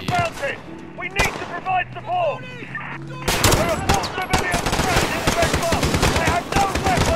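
Heavy gunfire and machine-gun bursts in the Call of Duty: Modern Warfare campaign's Piccadilly mission, with scattered shots and shouted dialogue at first, then a loud, sustained rattle of automatic fire under continued yelling.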